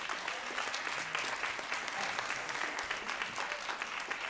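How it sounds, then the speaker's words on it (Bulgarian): Sustained applause from an audience at a film event interview with actor John Savage in Sofia, a dense steady clatter of many hands clapping without pause. "И най-искрените ви аплодисменти за Джон Савич."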